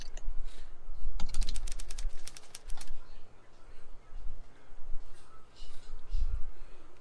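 Rapid bursts of computer keyboard typing cluster in the middle, close and fairly loud, with quieter keystrokes later over a low background hum during a Goose Goose Duck game session.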